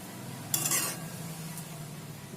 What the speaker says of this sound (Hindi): इसे भी मिक्स कर लेंगे। सब चीजें अच्छे से मिक्स हो गई हैं।